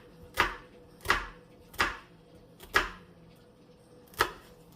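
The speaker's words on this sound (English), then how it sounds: "Cut slits into your onion." A knife chops slits into an onion on a cutting board, five crisp, fairly even cuts about a second apart, close and fairly quiet, with no speech.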